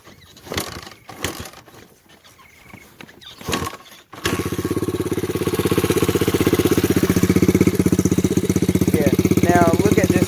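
A 2001 Honda XR100R dirt bike starts after a few seconds of handling noise and voices, then settles into a loud, steady, close idle as a person speaks briefly over it.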